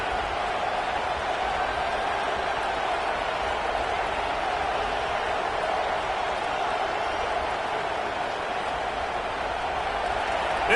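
A football stadium crowd keeps up a steady, dense roar that fills the whole stretch without breaks, loud and even throughout.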